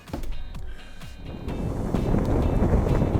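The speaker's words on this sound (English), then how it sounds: "You can hear the wind" Strong wind of about 30 mph buffets the microphone in a rough, roaring rush that builds toward the end, with some faint clicks and knocks.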